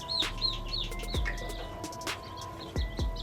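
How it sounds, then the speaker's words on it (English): Baby chicks of the Sapphire Gems and Gold Sex Link breeds peep in a cluster of high, rapid chirps close by, with brief low bumps and knocks scattered between the calls. "These are all the chicks."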